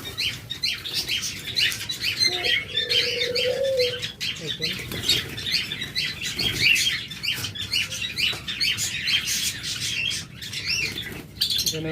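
A colony of Java sparrows gives dense, continuous high chirping and twittering, with occasional wing flutters and a faint low murmur underneath.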